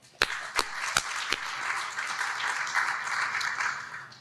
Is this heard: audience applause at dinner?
yes